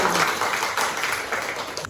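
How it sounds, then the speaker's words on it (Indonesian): Students in a classroom teaching-practice session clap together, a dense, steady patter of many hands lasting about two seconds at moderate loudness. "Beri aplaus untuk kalian."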